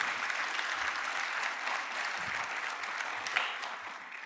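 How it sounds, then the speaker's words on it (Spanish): A congregation applauds during a church service sermon. Steady, moderately faint clapping continues evenly, with a few louder claps standing out. "Dele ese aplauso."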